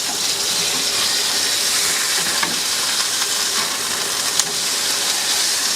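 A burger patty fries in a pan inside a camper, giving a loud, continuous close sizzle with a few small pops and crackles.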